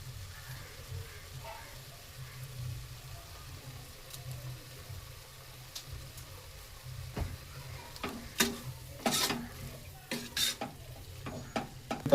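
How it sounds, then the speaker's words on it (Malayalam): Biryani masala with ginger, garlic, coriander leaves, mint and tomato stirred in a pressure cooker, a soft sizzle underneath and sharp scraping clicks of the spoon growing more frequent toward the end. "നന്നായിട്ടൊന്ന് ഇളക്കി ഒന്ന് സെറ്റാക്കി വെക്കാം കേട്ടോ."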